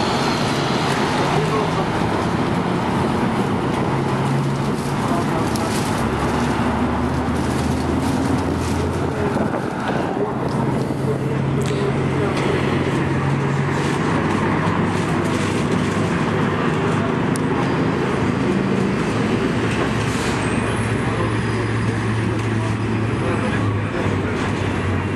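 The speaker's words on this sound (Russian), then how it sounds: "Автобус плелся очень медленно и прямо располагал к съемке." City street traffic in Chișinău on a sunny May day, heard from inside a slow-moving bus: a continuous, loud rumble of engine and road noise with wind buffeting, steady from start to finish.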